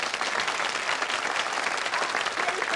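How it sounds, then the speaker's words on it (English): A studio audience at a 1994 infomercial applauds instant artist Conni Gordon: dense, steady clapping at an even loudness throughout, with no break and no voices standing out. "Let's give a warm round of applause to the instant artist herself"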